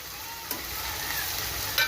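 Onion, tomato and chunks of elephant yam sauté in a pan with a constant close sizzle, broken by a sharp scrape of the spoon near the start and another near the end.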